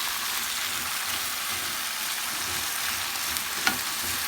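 Potatoes and onions frying in a pan for smothered fried potatoes, a steady close hiss of sizzling oil with light stirring and one small scrape of the spatula near the end.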